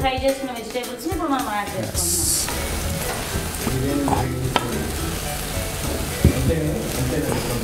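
Vegetables sizzling in hot oil in a pan and being stirred, a dense steady frying hiss with scraping, while a person talks over it throughout.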